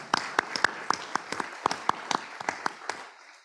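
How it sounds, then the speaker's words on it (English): Seated audience at an academic-industry talk on tidal stream energy claps for the speakers; a modest, fairly sparse round of distinct hand claps that fades out after a few seconds. "Can you give a round of applause for our speakers, both here and online,"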